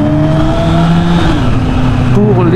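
A Honda CB650R E-clutch 2024 four-cylinder motorcycle runs close and loud, its engine tone climbing and falling through revs, with a voice talking over the steady drone.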